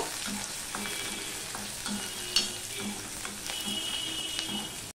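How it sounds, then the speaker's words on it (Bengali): Chopped garlic frying in hot oil until red, for a gathi kochu (taro) curry, a steady close crackling sizzle with occasional stirring scrapes throughout. "রসুনটাকেও আমি লাল লাল করে ভেজে নেব।"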